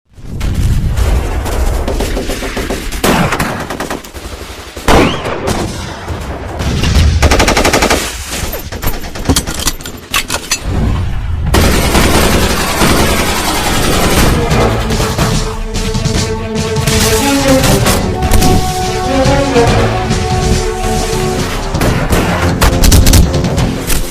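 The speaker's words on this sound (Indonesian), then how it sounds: "Kemudian mereka terlihat adu tembak." Gunfire in a film shootout scene: loud, sustained bursts of automatic fire and single booming shots over a dense, dramatic soundtrack.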